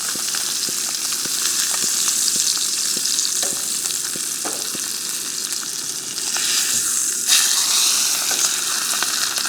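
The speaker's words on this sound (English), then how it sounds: "One last sear on that side." A ribeye steak sears in a pan on a camp stove with a loud, steady sizzle and occasional crackles and utensil taps, heard close and alone.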